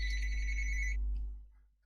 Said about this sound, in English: let me shut off that phone ringer